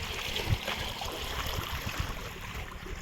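Backwater flows at Uthiramerur lake with a faint, steady rush and gentle gurgle, heard alone outdoors at low level.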